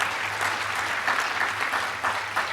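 Audience applause at a medal of valor ceremony, a steady wash of clapping from a large crowd that carries evenly throughout with no voices over it.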